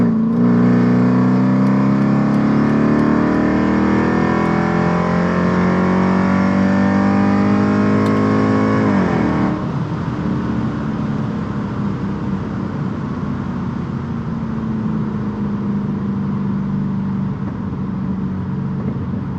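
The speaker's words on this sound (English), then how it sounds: "even with the valves open, just cruising around, there isn't really any drone in the car" A Mercedes C55 AMG with straight-pipe exhaust, Kleemann headers and open valved mufflers drones loudly while cruising, its steady engine note holding for several seconds, then dropping to a lower, rougher rumble that continues alone.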